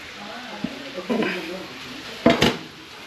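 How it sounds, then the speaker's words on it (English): Peppers tossed into a pan of cooked fajita meat give a few clattering metal-pan knocks and a brief scraping shuffle, with two sharper clanks near the end, close and moderately loud. "I'm going to go ahead and throw in these peppers."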